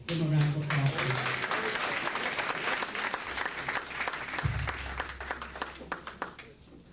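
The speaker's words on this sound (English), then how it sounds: "Give him a round of applause." A crowd at an appreciation and recognition reception gives a speaker a loud, sustained round of applause, with dense clapping and a few indistinct voices and brief tones mixed in before it tapers off.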